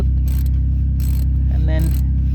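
Ratchet wrench tightening a starter connector on a 2011 Toyota RAV4, several short clicking ratchet bursts over a constant low hum.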